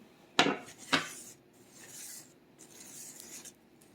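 Two sharp clinks of a teaspoon dropping mincemeat cookie dough with apples, raisins and molasses onto a baking tray, each followed by faint scraping and soft handling noises in a quiet kitchen.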